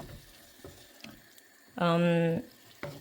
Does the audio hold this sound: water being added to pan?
yes